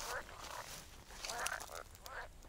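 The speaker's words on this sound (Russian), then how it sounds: "Вон они плавают и квакают." Frogs croaking from a small pond inlet, a series of rough, repeated calls at moderate distance with background noise and some low chatter.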